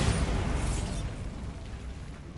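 A Bombarda spell in Hogwarts Legacy blows apart with a loud, broad explosive burst that rumbles and slowly fades over a couple of seconds.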